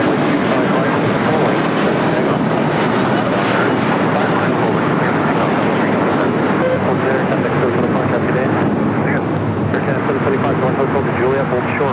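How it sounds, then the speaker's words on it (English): A China Southern Cargo Boeing 777 freighter takes off at LAX, its jet engines a loud, sustained broadband roar that fills the whole stretch without a break. "China Southern Cargo Flight 420 heading to Shanghai in a 777 freighter. Be taken off here on the south side coming up."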